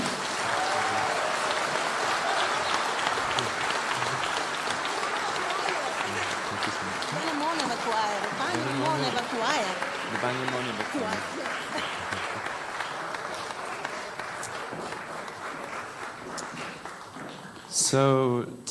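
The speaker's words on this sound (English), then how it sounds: "A huge round of applause, everyone, for Cosmic Voices Choir." A large audience applauds a choir at a live outdoor event, steady dense clapping sustained for a long stretch at a distance, with a voice speaking briefly near the end.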